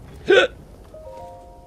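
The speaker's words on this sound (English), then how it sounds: "Whilst I have more hiccups." A single sharp hiccup, close and loud, followed by faint game sound effects from Zelda: Breath of the Wild.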